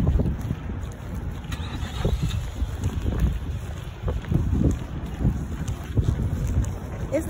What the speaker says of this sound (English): I don't know if y'all can hear that, but that wind is just...